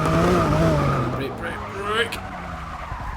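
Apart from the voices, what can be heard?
Lykan Hypersport tyres skidding while driving in Forza 6 video game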